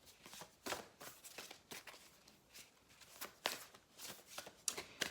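Tarot cards are shuffled for a reading, with soft, close riffling and slapping bursts repeating irregularly and fairly faint throughout, without talk.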